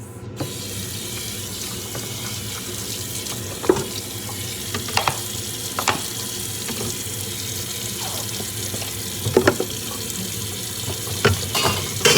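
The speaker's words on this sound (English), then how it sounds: "While your pizza is in the oven, clean the dishes." Dishes being washed under a running kitchen tap in the sink while a homemade pizza bakes: a steady stream of water with occasional clinks and knocks of crockery throughout.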